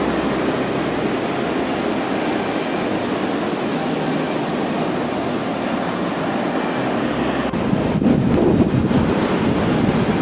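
Ocean waves wash onto Carmel Beach in Carmel-by-the-Sea, California, a continuous roar of surf with heavy wind buffeting the microphone, growing louder near the end.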